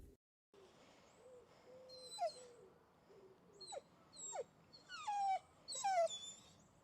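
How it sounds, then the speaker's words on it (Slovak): A Lagotto Romagnolo dog whines in thin, high, wavering cries that rise and fall in short bursts, growing more frequent and insistent toward the end, heard alone at close range against quiet outdoor background. "ukážka ako kňučí."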